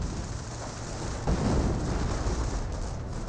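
An artillery shell bursts in a Company of Heroes battle, a dull rumbling boom rising briefly out of a dense, constant wash of rain-like battle noise.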